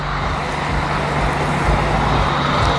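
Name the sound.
trucks driving past at a truck show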